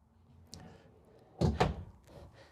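A large, deep pull-out drawer in an Entegra Coach Accolade 37M motorhome slides and thuds shut nearby, preceded by a softer click, with quiet room tone around it.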